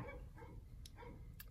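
Neighborhood dogs bark from a distance in a few short, muffled bursts over a steady low background hum, faint and somewhat far off.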